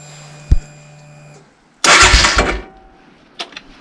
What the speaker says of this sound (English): we're going to just hit the starter motor just to see if it's engaging properly